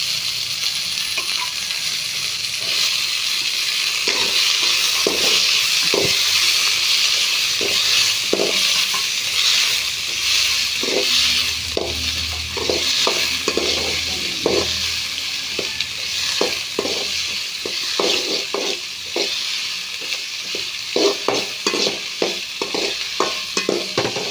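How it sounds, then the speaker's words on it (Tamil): Onions frying in oil with popped mustard seeds, a continuous close sizzle broken by many quick spatula scrapes and clinks against the pan, growing busier toward the end. "எண்ணெய் ஊற்றி கடுகு போட்டிருக்கோம் கடுகு பொரிஞ்சதும் வெங்காயம் போட்டுக்கலாம்"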